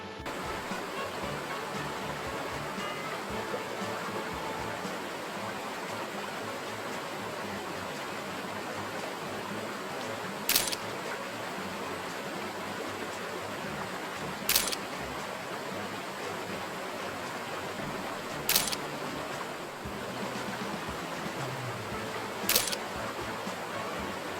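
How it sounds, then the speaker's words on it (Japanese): Gongen waterfall in Kochi, Japan, pours in a steady, broad rushing roar, while a camera shutter clicks sharply four times at intervals. "今高知県にある権現の滝に来ました。"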